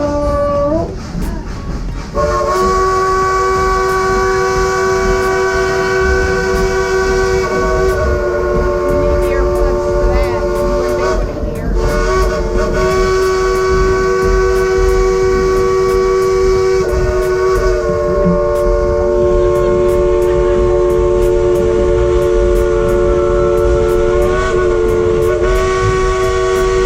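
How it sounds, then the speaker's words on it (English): The Dollywood Express steam train sounds its whistle in long sustained tonal blasts, repeated several times over nearly half a minute, loud and close, with crowd noise and voices underneath. "Let's get that engineer Casey to blow the whistle on the calendar."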